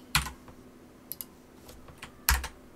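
Keystrokes on a computer keyboard, an Amstrad CPC, as a program is entered: a few scattered close taps and clacks, with two heavier key strikes marking the start and end.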